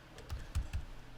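A few quick keystrokes on a computer keyboard, close and soft, three light clicks in a short burst with no talking.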